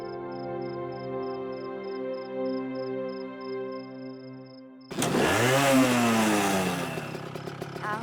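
A motorcycle engine runs steadily for about five seconds, then a loud broadband burst cuts in with a rising and falling rev-like sweep, likely the bike pulling off; it is heard alone, with no talk.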